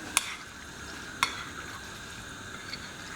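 Eggplant sautés in a pan with carrots, celery and onion, giving a quiet, steady sizzle broken by two sharp metallic clicks of a utensil against the pan and a fainter tap near the end.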